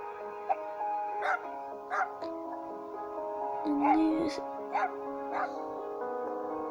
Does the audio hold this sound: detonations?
no